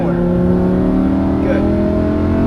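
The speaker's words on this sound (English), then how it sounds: "Now squeeze the throttle out of the corner." A Lamborghini Huracan LP610-4 on a racetrack accelerates out of a corner, its engine note rising steadily and loud from inside the cabin, with an instructor talking over it.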